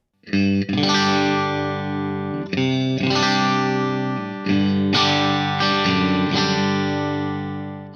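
Distorted electric guitar, run through an input buffer and 100 feet of cable into the amp, strums a few sustained, chorus-tinged chords, each ringing out loudly before the next, with no talking.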